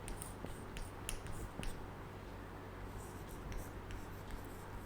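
A pen writes on a board during an accounts lesson, with faint close scratchy strokes and small taps scattered over a steady low background hum.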